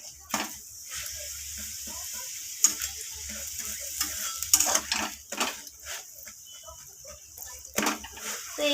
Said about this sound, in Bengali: এখন আমি অল্প অল্প করে সাদা তেল দিয়ে পরোটাটাকে লালচে করে ভেজে নেব।